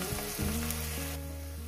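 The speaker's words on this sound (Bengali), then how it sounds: "পেঁয়াজটাকে আমি 2 মিনিট ভেজে নিব" Sliced onions fry in oil in a pan over medium heat, a close, constant crackling sizzle with a low steady hum underneath, nothing else over it.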